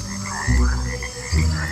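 A cane toad croaks close by in two deep, pulsing bursts separated by a short pause, with no voices.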